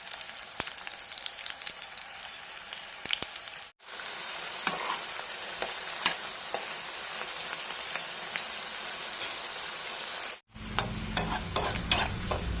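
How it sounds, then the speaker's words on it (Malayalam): Bitter gourd pieces fry in hot sunflower oil with a steady, close crackling sizzle and scattered sharp pops, briefly interrupted twice by short gaps. "ഇവിടെ ഞാൻ സൺഫ്ലവർ ഓയിലാണ് ഒഴിച്ചു കൊടുത്തിരിക്കുന്നത് ഇതിൽ വറുത്ത് കോരിയെടുക്കാം"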